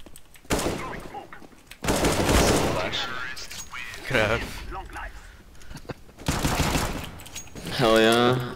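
Gunfire in a first-person shooter video game, bursts of rapid automatic fire and single shots in loud clusters separated by brief pauses, with a player's voice talking over parts of it.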